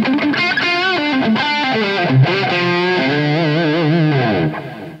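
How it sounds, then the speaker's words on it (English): Electric guitar played through an MXR Joshua Ambient Echo delay pedal in the effects loop of a St. James amp, with the effect mixed high; sustained, gliding notes with shimmering repeats ring out on their own, loud and unbroken until they fade at the end. "It's a wonderful delay regardless."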